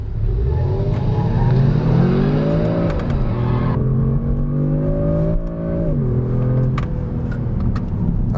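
A 2018 Kia Stinger GT with an 8-speed automatic accelerating hard, the engine revving up through gears with rising pitch and shift breaks, heard steadily from inside the car without talk.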